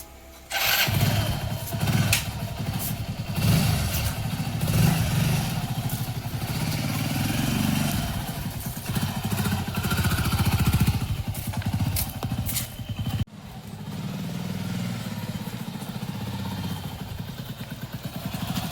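A motorcycle engine runs steadily and loudly at close range throughout, with a rough low rumble and throttle variations, briefly dropping in level partway before continuing.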